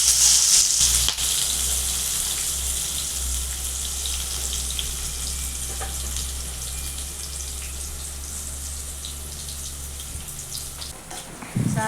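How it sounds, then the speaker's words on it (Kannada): Spices for a tempering crackle and sizzle in hot oil in a home kitchen while potato palya is cooked, a steady loud hiss from start to finish with no voices. "ಈಗ ಒಗ್ಗರಣೆ ಕೊಡಂಬ್ರಿ"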